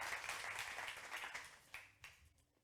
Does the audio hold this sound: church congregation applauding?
yes